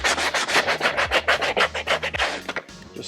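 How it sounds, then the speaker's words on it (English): Plastic being sanded by hand with 120 grit sandpaper while building the back piece of a Biker Scout armour prop: a close, loud, steady run of rhythmic rasping strokes, about a dozen back-and-forth passes, easing off at the end. "120 grit sandpaper. I use that."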